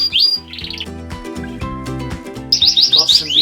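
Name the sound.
canaries chirping in a canary room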